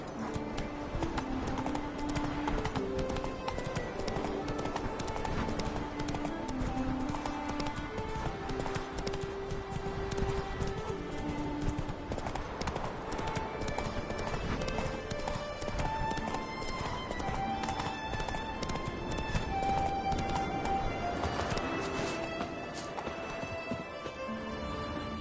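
Horse hooves galloping in The Witcher 3, a continuous rapid clip-clop rhythm under a game music score, steady and moderately loud throughout.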